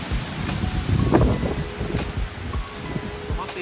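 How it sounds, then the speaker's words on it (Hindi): Strong wind gusting across an outdoor garden plot, a steady roaring buffet with low rumbling rushes swelling and easing throughout, close and loud with no voices. "कितनी तेज हवा"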